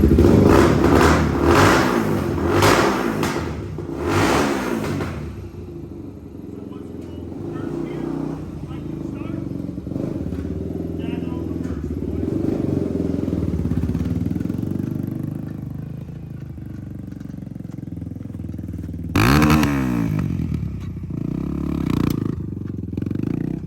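A Honda ATC 440EX three-wheeler, built on a 350X frame with a 400EX big-bore motor, revs loudly at first and then settles into a steadier engine drone while riding, with a sharp rev burst near the end.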